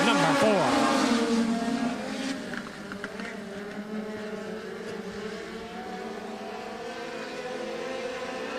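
Race cars in a Minnesota heat race at Maquoketa Speedway roar off on the green flag, a loud engine surge that fades into a distant buzzing drone as the field moves away, under an announcer's commentary.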